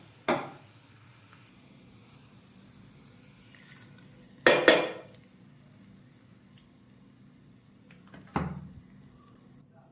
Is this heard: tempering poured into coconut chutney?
yes